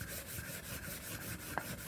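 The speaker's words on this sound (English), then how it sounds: "when I get the burr, I try to sharpen that out." A leather skiving knife is drawn across a grit sharpening stone in short, close, quiet rubbing strokes, with one brief scrape near the end.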